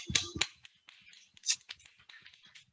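An audience claps with three fingers, producing sharp, light snapping-like claps: two strong bursts at the start, then scattered fainter claps trailing off.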